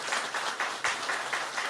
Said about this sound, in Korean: 우리 박수로 좀 환영해 주시면 좋겠습니다.